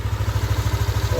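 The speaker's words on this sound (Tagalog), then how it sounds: "So ito na yung tunog ng makina." A Yamaha NMAX v2 scooter engine runs steadily at idle right after reassembly, a close, even low throb with a light mechanical chatter and no talk over it.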